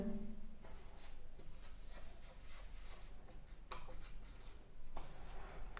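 Pen or marker writing out a math solution, quick scratchy strokes and rubbing in bursts with short pauses, close and quiet.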